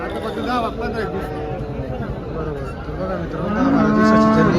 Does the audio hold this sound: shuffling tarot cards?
no